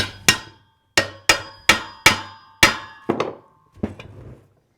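A rolling cultivator part shaken loose from its metal frame, producing eight sharp metallic clangs in an uneven series, bright and ringing with quick decay, the last few softer and more rattly, no talking.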